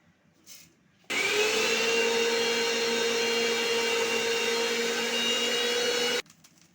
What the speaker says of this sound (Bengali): এই চিড়েটা কিন্তু আমি মিক্সিতে গুঁড়ো করে নেব